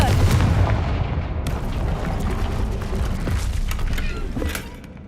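A heavy booming blast from the Confringo fire spell in Hogwarts Legacy, with dense low rumble and crackling debris filling the whole stretch before tapering off slightly near the end.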